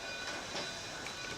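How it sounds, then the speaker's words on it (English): Cumbres & Toltec Scenic Railway train pulling out of the yard toward Chama, New Mexico, at low speed, heard as a faint, brief, steady rail rumble. "we're pulling out of the yard now"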